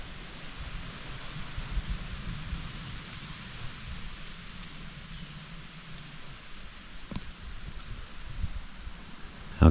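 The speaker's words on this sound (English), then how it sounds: "Birds, wind blowing through the trees, raining, little pine needles." Rain falling with wind moving through the trees at a mountaintop tent campsite in Kentucky, a steady soft hiss of drops and rustling leaves, even and fairly faint throughout, with a sharper tap at the very end.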